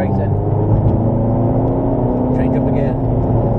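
A Ferrari California accelerates on a drive with an instructor, its engine a steady, loud, close hum that holds throughout while a voice speaks over it.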